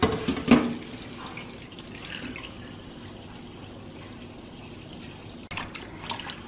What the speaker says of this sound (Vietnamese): Rồi bây giờ mình cho nước vô nha.